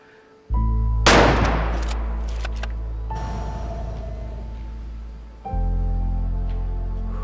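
Rifle shot at a mule deer buck in the hunting game Way of the Hunter: one sharp, loud crack followed by a long rolling echo that fades across the landscape, with no voices.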